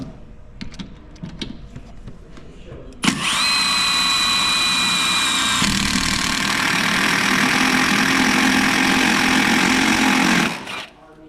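A step drill bit bores a hole through the steel subframe of a 1967 Camaro while subframe connectors are fitted. Light handling clatter comes first, then a loud, sustained whining drill grind runs for about seven seconds before stopping abruptly.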